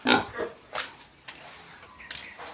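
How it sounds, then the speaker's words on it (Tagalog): A few short pig grunts, close and fairly quiet, spaced out over a couple of seconds. "Isa kong baboy."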